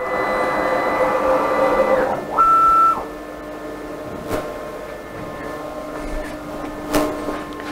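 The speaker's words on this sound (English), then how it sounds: "before we can start doing a job, you need to home your machine" A 6040 CNC router homes its X, Y and Z axes: a steady stepper-motor whine for about two seconds, then a short higher-pitched tone and a brief pause, followed by further faint motor movement and a couple of soft clicks, with no talking.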